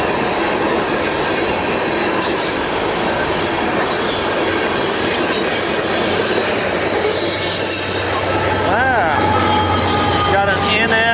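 A freight train rolls past near Hopkinsville, Kentucky, with a continuous loud rumble of wagons, wheel clatter and high squeals near the end.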